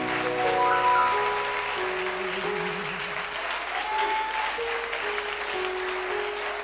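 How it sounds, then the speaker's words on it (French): A church congregation applauds steadily for the Lord, dense continuous clapping with scattered cheers, while sustained organ or keyboard tones play underneath throughout. "Ensemble, acclamons le Seigneur."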